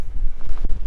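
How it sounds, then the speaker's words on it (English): Strong wind on the fell tops of Illgill Head above Wasdale buffeting a microphone, a loud low roaring rumble that gusts unevenly throughout. "very windy on the tops"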